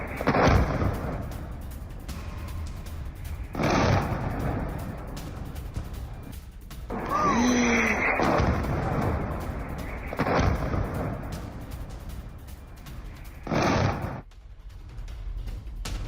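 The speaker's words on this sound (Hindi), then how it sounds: "इजराइल में ये एक बहुत बड़ा धमाका हुआ है।" Several loud, deep explosion booms near Jerusalem land every few seconds over a constant roar, each one a heavy blast with no voices heard.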